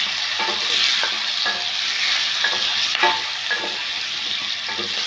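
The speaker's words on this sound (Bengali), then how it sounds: "কড়াই আলুটা ভাজা হচ্ছে" Potatoes fry in hot oil in a kadai, a dense continuous sizzle broken by repeated scrapes and stirs of a spatula, with no talking.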